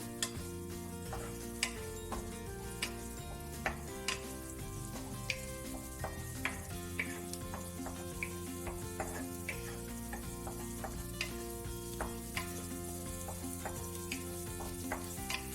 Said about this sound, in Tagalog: Now we need to toast the garlic until it's crispy.